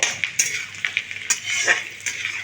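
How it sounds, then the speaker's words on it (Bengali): Chopped ginger and garlic are stir-fried in oil in a pan for a chicken dish, with a bright sizzle under quick metallic scrapes and clinks of a spatula, close and lively with no speech. "একটু কয়েক সেকেন্ডের জন্য নাড়াচাড়া করে ভেজে নেব"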